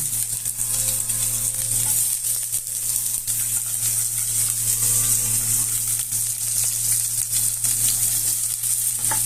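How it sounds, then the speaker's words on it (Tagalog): Onion dropped onto sizzling ginger in a pan for chicken tinola with crabs, giving a loud, constant frying hiss over a low steady hum, close by with no talking. "ilalagay natin ang ating sibuyas"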